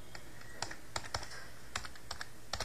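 Quiet, irregular clicking of keys as text is typed on a computer keyboard, with scattered keystrokes tapping in a soft, uneven rhythm.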